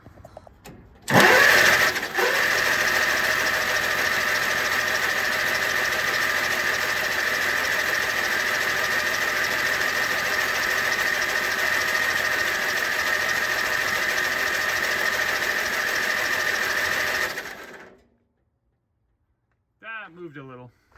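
Starter motor cranking the engine of an antique Allis Chalmers B tractor that sat unused for over fifteen years, with a cracked engine block; loud, steady churning for about sixteen seconds before cutting off, followed by brief speech.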